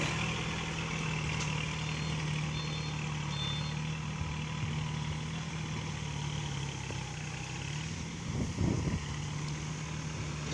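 A tractor engine runs at a steady, even drone, close by and without voices, with a brief rougher rumble near the end.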